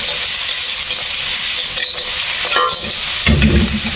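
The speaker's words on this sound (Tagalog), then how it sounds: "Pwede na natin ilagay itong hinugasan natin bayawak. At haluin." Washed monitor lizard meat is stirred in a hot pan, sizzling and frying steadily throughout, with a louder scrape and clatter of the spoon near the end.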